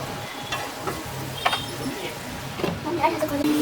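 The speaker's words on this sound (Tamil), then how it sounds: "இதை வந்து சிம்மில் வச்சு ஒரு 5 மினிட்ஸ்க்கு நம்ம ஃப்ரை பண்ணிக்கலாம்" Eggplant frying on low heat in oil with curry leaves, a steady soft sizzle with scraping stir sounds and scattered clinks throughout.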